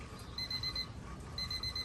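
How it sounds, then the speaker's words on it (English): A 15-minute timer alarm beeps in two rapid repeating bursts of high electronic pips over a steady background hum, with no one speaking. "That is the 15-minute timer."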